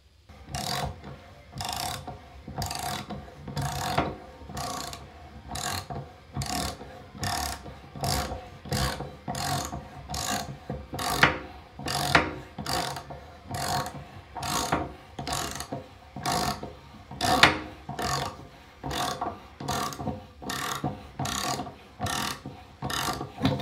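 A corroded, stubborn tub drain is unscrewed with a turning tool, giving a steady series of loud ratcheting clicks and grinding creaks, roughly one per second, close up and with no talking.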